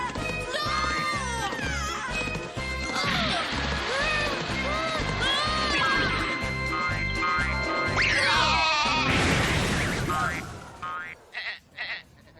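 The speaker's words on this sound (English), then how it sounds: "The stupid sheep bites Pug, who runs away with the animal in hot pursuit." Cartoon sheep bleating in a Fancy Lala anime episode, several wavering cries over busy music and sound effects, loud and close, ending in a few short scattered sounds.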